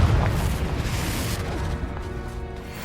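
The Confringo blasting spell explodes in Hogwarts Legacy, a heavy booming blast right at the start that rumbles and decays into a lingering, crackling roar.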